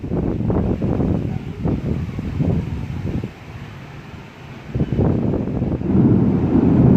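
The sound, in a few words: strong storm wind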